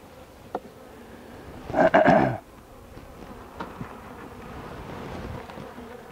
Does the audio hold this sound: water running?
no